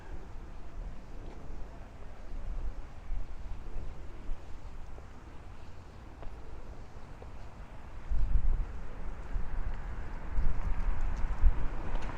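Wind buffets a microphone while walking north into a breeze along Shore Road in Bay Ridge, Brooklyn, a steady low rumble that swells stronger in gusts toward the end, with no voices.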